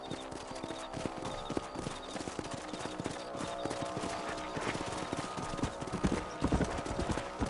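Horse hooves clip-clop steadily on a ranch in the game Red Dead Redemption, with a rapid rhythmic gait under a dense layer of game ambience and music, loud and continuous throughout.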